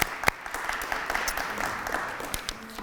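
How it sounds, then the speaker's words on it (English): Audience applause at a historical society talk, honoring the sponsors: a short, moderately loud burst of clapping from a modest crowd with a sharp clap near the start, continuing evenly before tapering off. "let's have a round of applause for Ron and Jennifer"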